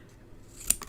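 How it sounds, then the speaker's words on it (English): Scissors snip through paper for a card-making kit, a quiet short burst of cutting near the end of an otherwise hushed moment. "I've cut my little paper"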